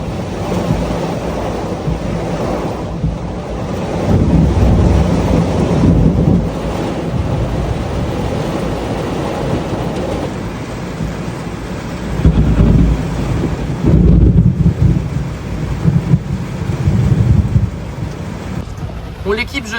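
A huge thunderstorm with torrential rain and nearby lightning, heard as a loud, steady roar of heavy rain and wind-buffeted noise with deeper rumbling surges partway through and near the end.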